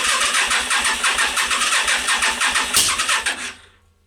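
A Yamaha Virago XV 500 motorcycle engine cranks and tries to catch on start, a rapid rhythmic chugging with a loud misfire bang near the end before it cuts out, close and loud.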